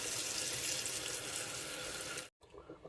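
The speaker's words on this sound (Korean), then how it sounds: "소금기가 엄청 많이 있는 건데 물을 틀어서 이렇게 잘 씻어주면 됩니다." Tap water runs steadily over salted seaweed being rinsed in a sink, a broad continuous splashing rush that stops abruptly near the end, followed by a few faint handling sounds.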